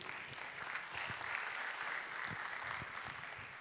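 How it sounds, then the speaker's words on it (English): A conference audience claps continuously, a soft, even wash of many hands heard at a distance and fairly quiet, with no talk over it. "So give a mighty hand clap to UCC."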